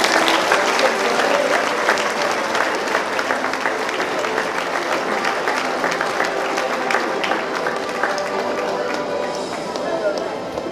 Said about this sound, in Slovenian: tako da tudi za to mu lahko zaploskate